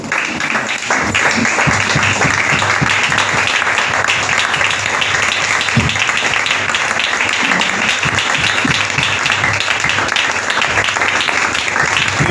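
Continuous loud applause from a church congregation at a seminar, steady dense clapping filling the room throughout with voices mixed in.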